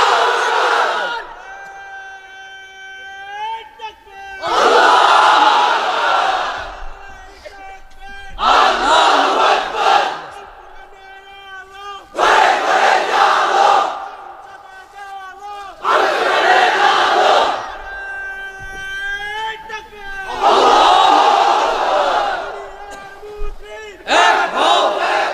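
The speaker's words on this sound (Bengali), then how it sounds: "এবার অবিবাহিতরা দাও লিল্লাহি তাকবীর" A crowd of unmarried men at an Islamic sermon gathering in Chapainawabganj shouts a takbir chant: five loud, massed roaring bursts in a steady rhythm, each separated by a single amplified voice calling out.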